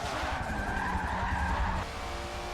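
A widebody Nissan R31 Skyline GTS-R drifting in Forza Motorsport 7, its tires squealing loudly and continuously over the engine note before the skid eases off.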